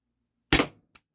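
A single sharp shot from an Umarex TR68 T4E revolver, loud and close, with a short decaying tail and a faint click just after, no talking.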